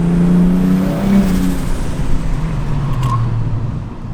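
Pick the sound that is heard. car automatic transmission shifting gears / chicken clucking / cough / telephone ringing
car automatic transmission shifting gears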